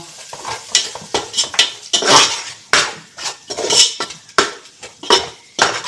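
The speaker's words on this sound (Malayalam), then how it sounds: "ഇനി നന്നായിട്ട് നമുക്ക് ഇളക്കി കൊടുക്കാം" Biryani masala stirred in a metal cooking pot, a rhythmic run of loud scraping and clanking spoon strokes against the pot over faint sizzling, close up with no talking.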